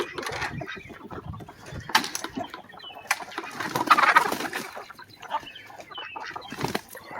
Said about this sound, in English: there's chickens out.